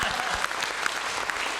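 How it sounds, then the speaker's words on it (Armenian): Moderate, somewhat distant clapping from a gathered group welcoming a new business partner at a company event, a steady crowd patter with a few sharper claps and faint murmuring underneath. "Նոր գործընկերը ծափահարություններ"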